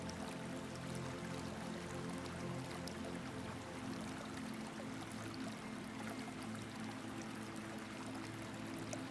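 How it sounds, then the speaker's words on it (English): Warm water runs steadily through a narrow stone wall channel into a shallow bathing pool, a continuous close pouring and trickling rush with no pauses. "You follow the sound of water through that quieter opening."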